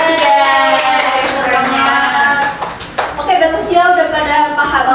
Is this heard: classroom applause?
yes